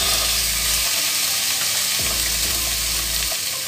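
Chicken pieces cooking in a pan until they change colour, a steady close sizzle and frying hiss with low thumps as the pieces are stirred or shifted.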